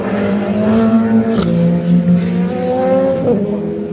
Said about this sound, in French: Robin Grimes a doublé René Binder à l'instant